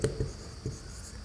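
Chalk or marker strokes on a classroom board while an equation is written, three short scratchy taps in quick succession, close and fairly quiet.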